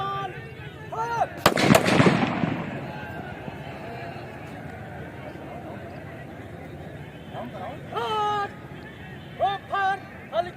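A police riot-control drill on a training ground, with a sudden loud burst of gunfire from a volley, a ragged crash that decays over a couple of seconds, followed by shouted commands and whistle-like calls over background crowd noise.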